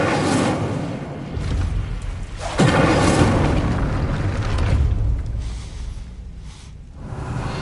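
A fire spell cast in the Hogwarts Legacy video game flares with a sudden whooshing burst and a low boom, then leaves a sustained roaring, crackling rush that swells again partway through before tailing off, with no talk.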